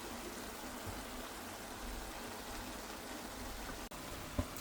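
Cabbage with mushrooms stews in its own juice in a pan, giving a steady, soft, hissing simmer with faint bubbling, even and close, with no talk.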